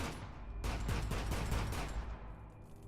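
Video game gunfire fired from an Xbox Elite controller on a PS4, a rapid burst of close, loud shots in quick succession that trails off into quieter tail.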